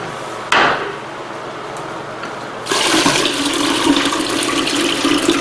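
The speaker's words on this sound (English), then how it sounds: "this little section here, that's where the dirty water comes out of" Dirty water gushes out of the drain section of a cleaning machine used on a martial arts puzzle mat, a sudden loud splash that settles into a steady, close pouring rush with no talking.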